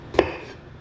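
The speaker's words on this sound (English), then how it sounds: "And the jalapeno, I want it diced." A knife strikes a cutting board once, a single crisp chop while dicing a jalapeno. It sounds close and clear, with a faint ring after it and no talking.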